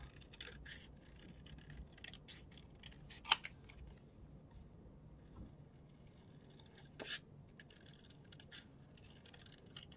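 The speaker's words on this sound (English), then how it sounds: "We'll fussy cut this one out." Scissors fussy cutting out a small paper Christmas tag, a run of light, close snips and paper rustles with a couple of sharper cuts, quiet and without talk.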